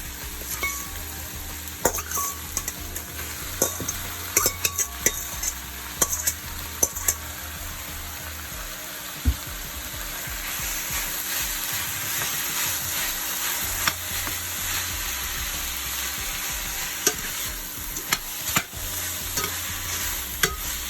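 Ground beef frying in a pan with onion and sweet pepper, a steady close sizzle broken by repeated spoon scrapes and clinks against the pan as it is stirred.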